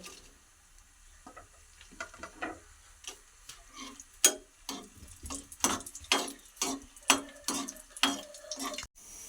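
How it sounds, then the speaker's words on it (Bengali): Dry red chillies fry in oil in a kadai, a faint sizzle broken by a run of sharp crackles and pops that grow louder and more frequent, with no voices. "তেলের মধ্যে আমি কিছুটা শুকনো লঙ্কা নিয়েছি, এগুলো ভেজে নেব"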